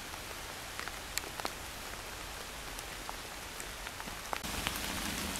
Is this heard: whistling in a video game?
no